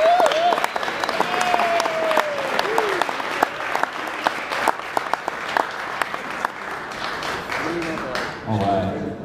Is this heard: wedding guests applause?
yes